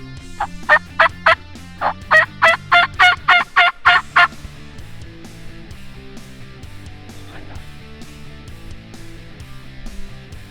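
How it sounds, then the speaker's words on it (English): A wild turkey gobbles during a Michigan spring hunt, a rapid series of about a dozen loud rattling pulses in a single burst, followed by quiet outdoor ambience with faint distant calls. "We had a gobble to the north, to the west, and to the east."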